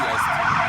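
A wailing ambulance siren passes on a street in Brussels, steady and fairly loud, heard briefly outdoors near a café table.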